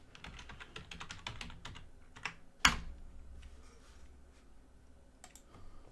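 Fingers typing a password on a computer keyboard, a quick run of light clicks followed by a sharper key press, then a few more scattered taps against a quiet room.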